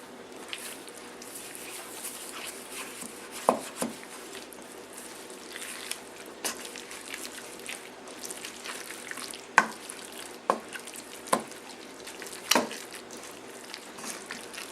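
Tuna salad ingredients being stirred together in a bowl, a soft continuous scraping with several sharper clicks of the utensil against the dish, close and fairly quiet with no talking.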